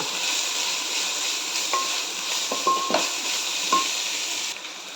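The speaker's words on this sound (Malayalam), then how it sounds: "ഒന്നര സ്പൂൺ ഇഞ്ചി വെളുത്തുള്ളി പേസ്റ്റ് ഇട്ടിട്ടുണ്ട് അതും ഇതിൽ കിടന്ന് നന്നായിട്ട് വഴന്ന് പച്ചമണൊക്കെ ഒന്ന് പോണം" Ginger garlic paste sautés in a pan for a Kerala chicken kondattam, a steady close sizzle with a few soft spatula scrapes and light metal clicks through the middle, the hiss dropping slightly at the very end.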